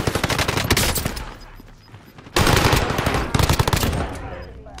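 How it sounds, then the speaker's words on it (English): Call of Duty Warzone gunfire: loud bursts of rapid shots and sharp cracks in two dense volleys separated by a brief lull, with no speech over them. "I'm being sniped through the box"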